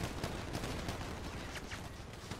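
Dense, steady crackle of sustained gunfire in a GTA 5 roleplay firefight near a hangar, with overlapping shots at an even loudness and no clear pauses across the span.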